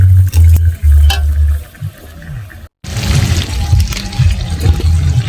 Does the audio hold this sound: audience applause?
no